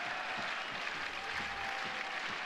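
Catalans Dragons home crowd at a 2011 rugby league playoff against Hull KR, a continuous roar of clapping and cheering from the stands, steady and dense with no distinct voices.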